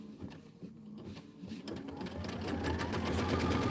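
An embroidery machine stitches a tack-down on linen, its needle working in a rapid, even mechanical rhythm that grows louder and steadier over a few seconds.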